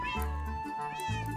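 A cat meows in a Minecraft world near a cat pen and a bird cage, two or three clear mid-pitched meows over a steady low game hum, alone without talk.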